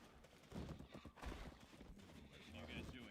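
Hooves clop in a quick, uneven patter, faint and game-like, from a horse in Black Desert Online, with a horse whinny blended in and a voice murmuring underneath.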